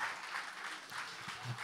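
Audience applause after an oriental dance number at a dance show, a steady broadband wash of clapping held at moderate level throughout with no talk over it.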